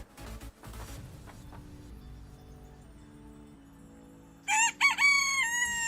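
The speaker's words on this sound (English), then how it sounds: "There's also the sound of KFC. KFC being one of my, he was my little cockerel." A rooster crows loudly and clearly in the video game Satisfactory, a single strained cock-a-doodle-doo near the end, preceded by quieter game clatter and tones.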